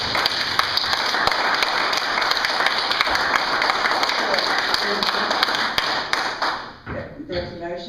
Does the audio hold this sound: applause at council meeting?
yes